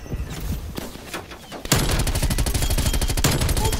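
Gunfire in Black Ops Cold War hardcore multiplayer: scattered shots under game noise, then a loud, rapid automatic burst that rattles steadily to the end.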